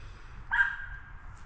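A dog named Gus lets out a single short bark in the distance, faint and brief against a low background hum.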